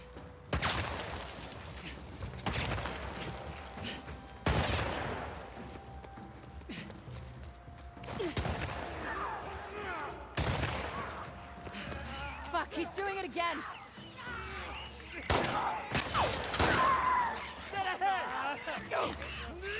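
Sharp gunshots in The Last of Us Part II, several loud isolated bangs spaced a few seconds apart, with someone talking in between.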